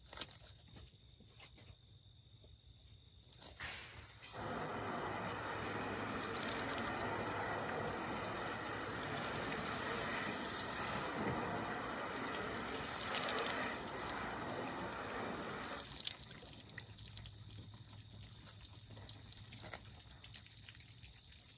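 Water sprays steadily over freshly clayed and buffed car paint for roughly eleven seconds, a broad continuous hiss that begins abruptly and cuts off, with quieter ambient outdoor noise before and after.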